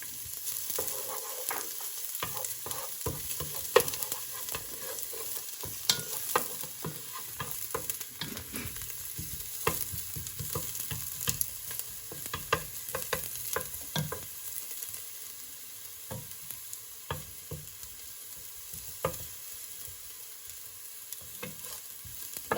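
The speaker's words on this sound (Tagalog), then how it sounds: "Pa-brown po natin itong garlic." Garlic browns in hot oil for pork adobo with a continuous low sizzle and crackle, dotted with frequent light scrapes and taps of a stirring utensil, steady and close with no talking.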